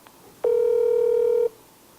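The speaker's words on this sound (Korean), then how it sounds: "저 궁금한 점이 있어서 제가 한번 전화로 연락해 보도록" A single steady telephone tone sounds for about a second, loud and clean with faint overtones, as a call is being placed on a Korean news program; no one speaks.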